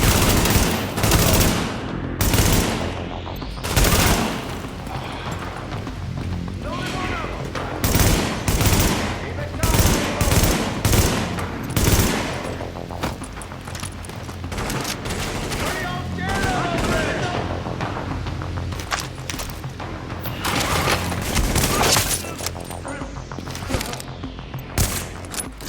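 Dense bursts of automatic gunfire and heavy shots from The Division video game crackle nearly nonstop at close range, with brief lulls between volleys and occasional spoken game dialogue.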